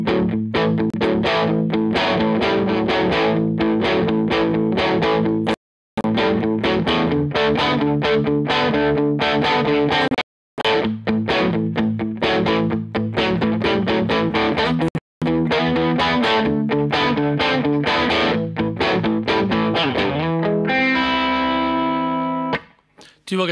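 Low-register distorted electric guitar rock riff with rests, played by itself and loud, steady and continuous with three brief silent breaks, ending on a ringing sustained chord.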